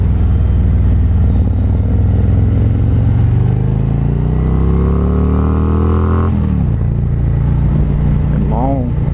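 A 2019 Harley-Davidson Road Glide Special motorcycle rides in first gear, its loud, close engine rumble climbing steadily in pitch as it accelerates, then dropping sharply on a shift, with a brief voice near the end.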